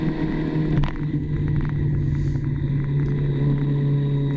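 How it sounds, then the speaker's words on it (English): A car engine pulls steadily through a corner after a downshift on a winding road, a loud, even, low hum and rumble from inside the car under power, with no break in the tone. "Down a couple of gears and power on as the corner starts to open up."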